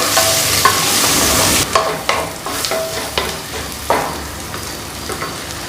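Onions and two green chillies sauté in a pan for tomato peas pulao, a steady sizzle with clinks and scrapes of stirring, loud and close; the frying hiss runs thick for the first stretch, then thins under intermittent stirring.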